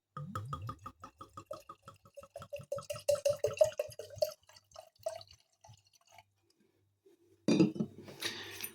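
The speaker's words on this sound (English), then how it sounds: "Let's pour some in this wine glass here." Pinot Grigio white wine glugs into a wine glass in quick, rhythmic, rising-pitched pulses that slow and fade out, followed after a brief pause by a soft clink and rustle.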